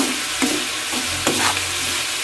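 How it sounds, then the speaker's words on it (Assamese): Ingredients for muri ghonto frying in a pan, a steady sizzling hiss with two or three scraping stirs of a utensil, close and continuous. "এইফালে মুড়ি ঘণ্টাৰ কাৰণে এইখিনি মই ভাজি আছোঁ"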